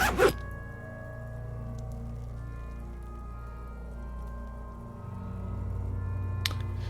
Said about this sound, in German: plötzlich erklingt ein hohes Geräusch, als der Lieutenant den Reißverschluss seiner orangenen Jacke öffnet